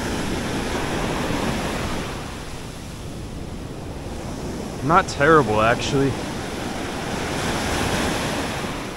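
Cold ocean surf washes continuously onto a beach used for saltwater fishing, with wind buffeting the microphone; someone speaks briefly partway through.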